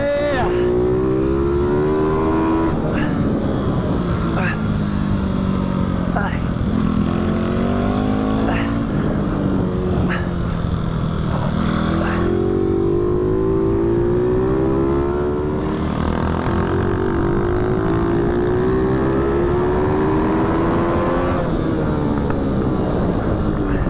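High-revving pit bike engine used as a mini GP racing machine, its pitch climbing and falling through repeated gear changes as it runs continuously and loudly for the whole stretch.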